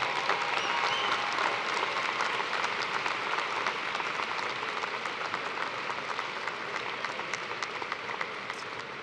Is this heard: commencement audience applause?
yes